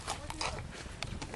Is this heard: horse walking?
yes